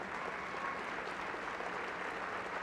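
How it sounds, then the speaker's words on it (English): A crowd applauds steadily at a Kansas City Kansas community college graduation ceremony, a dense, even roar of many hands clapping at once. "Please give another round of applause for Mr."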